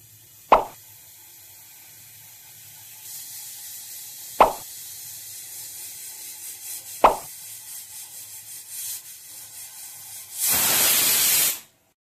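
A pressure cooker boiling toor dal gives several sharp pops over a low steady hiss, then ends with a loud burst of whistling steam that lasts about a second.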